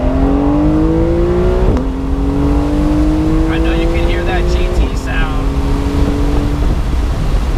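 A 2020 Porsche 911 Carrera 4S Cabriolet (992) climbs through gears on the road. Its loud engine note rises in pitch and drops sharply at two gear changes, with wind noise and some faint talk.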